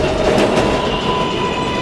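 A New York subway 7 train runs on its rails with a loud, continuous rumble and a steady high whine, close and without talk.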